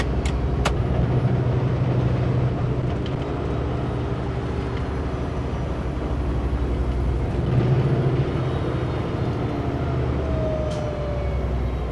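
A truck's air brakes hiss during a brake check in heavy highway traffic, with a few sharp bursts of air over a steady rumble of engine and road noise inside the cab.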